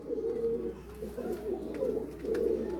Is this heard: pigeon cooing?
yes